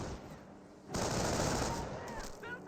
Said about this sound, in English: MG42 firing some volleys around the rifleman squad.